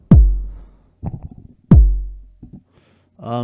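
Two heavy, punchy hardstyle electronic kick drums with long booming tails, each followed by short synth stabs, playing alone.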